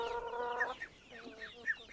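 Chickens forage on grass in a village farmyard, giving a drawn-out harmonic call followed by a run of short, close clucks, with no talk.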